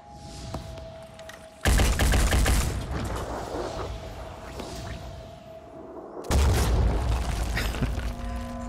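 A heavy cannon fires in the tactical video game Phoenix Point, two booming blasts a few seconds apart, each hitting loud and close, with rumbling gunfire and impacts sustained between them.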